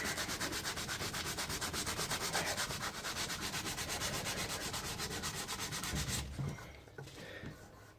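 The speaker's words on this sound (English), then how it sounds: "it's already taken me 4 minutes to do all the sanding." Steady back-and-forth scraping of 240-grit abrasive paper rubbed by hand over a steel knife blade, a fast even rhythm close by, stopping abruptly near the end.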